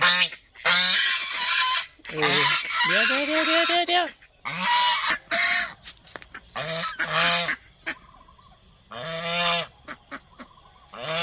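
Geese honk loudly and repeatedly in harsh, nasal bursts, close by, with someone talking quickly in between the calls.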